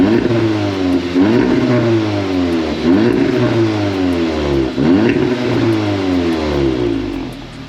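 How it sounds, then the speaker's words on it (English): An Audi S3 on its stock exhaust revs repeatedly, with about five rising and falling throttle blips in a loud, close, uninterrupted sequence and no voices. "And that's a stock exhaust,"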